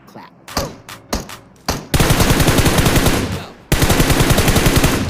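Gunfire in PUBG Mobile on the Sanhok map: a few separate loud shots, then long rapid automatic bursts close by, with a short break between the two strings of fire.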